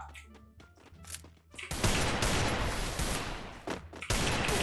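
Gunfire in the Free Fire battle royale game: after a quieter opening with scattered clicks and game sounds, a loud sustained burst of shots erupts and continues to the end, with a brief dip before resuming.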